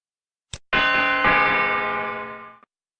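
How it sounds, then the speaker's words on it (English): In the video game JumpStart Adventures 3rd Grade, a soft click, then a bright, ringing doorbell chime sounds, struck again a moment later, its tones overlapping and slowly fading out. "Ring the doorbell to start the chimes."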